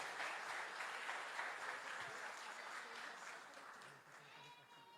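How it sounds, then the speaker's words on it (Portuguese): Congregation in a church applauding at a Seventh-day Adventist youth service, a steady broadband wash of many hands clapping that continues the full length at moderate volume, easing slightly near the end. "Queria pedir uma salva de palmas a eles, minha gente, pela decisão deles hoje"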